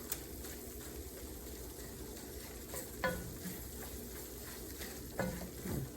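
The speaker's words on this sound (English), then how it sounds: "you want to let this flour cook for a minute or 2" Flour toasting in a pan on an electric stove at medium-high heat for breakfast milk gravy: a constant close sizzle with scraping stir strokes and a couple of sharper utensil knocks against the pan.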